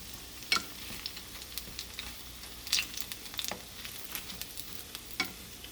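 Pakora batter with green vegetables fries in hot oil with a quiet, low sizzle broken by occasional soft pops and stirring clicks.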